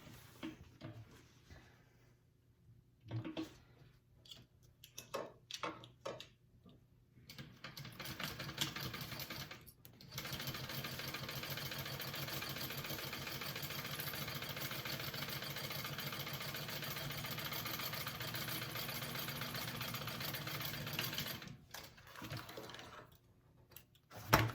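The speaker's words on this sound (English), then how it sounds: "we're going to stitch along there at a 1/2 inch seam allowance" A sewing machine runs a steady, continuous stitch along a shoulder bag seam for about twelve seconds, preceded by short start-stop bursts and handling noises.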